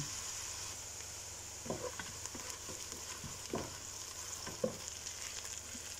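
Garlic fries in a hot pan while a utensil stirs it, giving a soft, steady sizzle broken by intermittent scraping strokes, close and moderately quiet with no one speaking.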